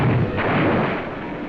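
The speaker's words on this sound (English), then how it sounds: "Our guns open up with a devastating barrage, plowing a path of exploding shells over the town and airfield." A 1944 Canadian Army artillery barrage of guns firing on a town and airfield: a dense, continuous roar of heavy, rumbling blasts that blur together, loud and sustained throughout.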